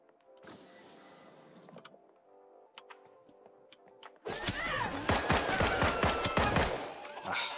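Gunfire in the video game Deceive Inc, arriving abruptly after a quiet hum with scattered clicks, then a loud, dense volley of rapid shots lasting several seconds.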